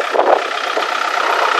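A Kubota L4508 4x4 tractor, its four tyres half sunk in mud, idles with a steady mid-pitched engine hum, close and constant throughout.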